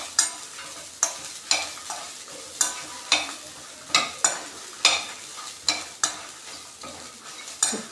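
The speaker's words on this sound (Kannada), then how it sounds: "ಕಾಯಿ ತುರಿ ಸ್ವಲ್ಪ ಸುಮ್ಮನೆ ಬೆಚ್ಚಗೆ ಮಾಡ್ಕೊಳ್ಳಿ ಅಷ್ಟೆ." Grated coconut is gently warmed in a pan for a mackerel fish curry, a spoon scraping through it in steady repeated strokes about twice a second over a faint sizzle.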